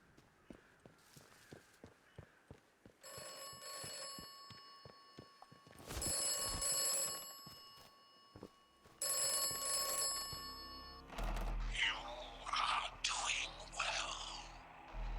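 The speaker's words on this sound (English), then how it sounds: "Should never have answered that bloody telephone." An old telephone rings in the video game Atomfall, two bursts of bright bell ringing among slow footsteps, followed by a voice speaking.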